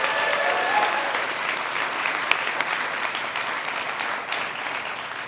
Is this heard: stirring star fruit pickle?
no